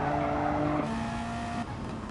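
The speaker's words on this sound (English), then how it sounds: "Look at that straight drag race between a Toyota and a Jaguar" Toyota and Jaguar race cars in a straight-line drag race: engines at high revs hold steady tones, then shift pitch together as the cars pass close, with a loud continuous drone.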